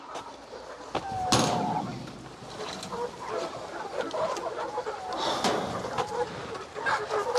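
Free-range laying hens cluck on a village farm with an open shed, a few close bird calls and clucks over a background of farmyard noise and a brief knock.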